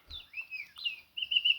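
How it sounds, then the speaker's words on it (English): Birds chirping outdoors in a natural setting, a series of thin whistled calls and sliding tweets in short bursts, fairly clear and near, with a faint low thump at the start and no talk. "Birds chirping."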